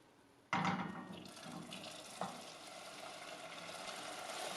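Butter dropped into melted sugar in a pan for wafer-sheet caramel cake, a sudden sizzling burst that settles into a steady frying hiss while stirred, with a second brief flare partway through.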